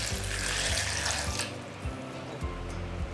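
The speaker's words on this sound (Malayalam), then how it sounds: "വെള്ളം ഒഴിച്ചു കൊടുക്കുക." Water pours from a tap or jug into a juicer jar holding mint leaves and lemon, a close splashing stream that runs for over a second and then softens into lighter trickles and dribbles.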